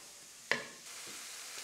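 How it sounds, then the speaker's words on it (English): Sliced leek hits shimmering olive oil in a skillet over medium heat, with a sharp initial crackle followed by a soft, steady sizzle that stays quiet and close. "I always find this sizzling sound reassuring"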